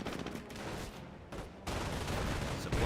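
Rifle squad gunfire in the World War II strategy game Company of Heroes, dense rattling volleys that ease briefly and then swell back to a loud, steady barrage.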